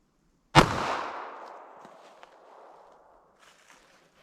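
A single Sellier and Bellot .380 ACP full metal jacket pistol round is fired into a ballistic test target, a sharp loud crack followed by a long fading echo that rolls away over several seconds.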